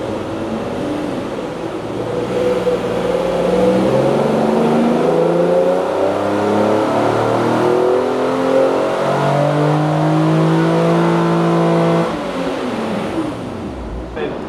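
A 2014 Infiniti Q60 on a dyno revs up through rising engine pitch repeatedly, whining and climbing loud and close before cutting off near the end.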